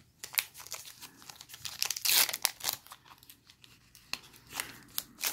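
Scissors snip open a Pokémon XY Evolutions booster pack, giving close crisp cuts and crinkling foil wrapper rustles in uneven bursts.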